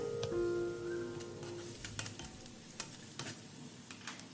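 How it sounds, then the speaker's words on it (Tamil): Garlic cloves sautéing in a pan for cheese garlic bread give a quiet, steady sizzle, with a few sharp clicks and taps of a stirring spoon against the pan. "அந்த பூண்டு பற்களை அதோடு சேர்த்துட்டு நல்லா வதக்கி விட்டுக்கலாம்"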